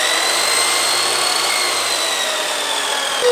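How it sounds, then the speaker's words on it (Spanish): A power drill churning dough as a mixer in a home kitchen, a steady close whirring buzz that holds for a few seconds with a slight dip in the middle and a bump at the end. "Un taladro para batir la masa."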